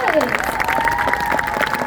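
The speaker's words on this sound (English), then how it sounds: "Can we all give her a big round of applause?" Audience applause for Reese the seal during a seal show at Hersheypark, steady crowd clapping with scattered cheers, while whistle-like tones and an amplified voice carry over the top.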